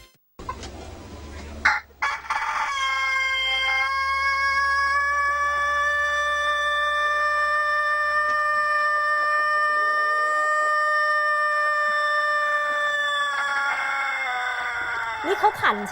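A rooster crows one long, loud, sustained call lasting about eleven seconds, close to the listener, with people talking briefly before and after it.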